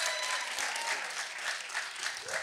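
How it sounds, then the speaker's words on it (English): Live audience at a comedy podcast show applauds, a brief, steady burst of clapping heard from within the room with no talking over it. "Can I get a round of applause for people who like the moustache?"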